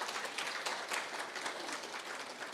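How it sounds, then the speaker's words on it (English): At a system launch event, an audience gives a round of applause, heard as a soft, distant, continuous patter of many hands with faint swells and no voices. "Can you give him a round of applause together with his boss at Level 1?"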